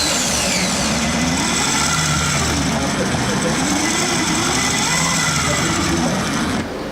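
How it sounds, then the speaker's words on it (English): A PLC-controlled automatic drill machine runs with a loud, continuous mechanical drone and whine that holds steady before dropping off near the end. "Then this pressed by the drill machine will be upward."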